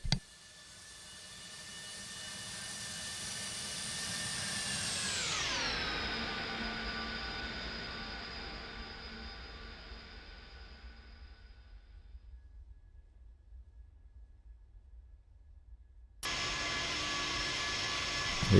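Airbus A300 jet flying by in X-Plane 11, a loud engine roar that swells, drops sharply in pitch as it passes and fades away, then the cockpit engine hum cuts back in abruptly.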